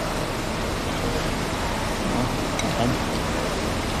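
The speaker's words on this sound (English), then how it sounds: "Hopefully, this rain shower is easing off a little bit." Steady rain shower on a motorbike trip around the Ha Giang loop in northern Vietnam, a dense, even hiss of falling drops that holds at one moderate level throughout, with no clear voices over it.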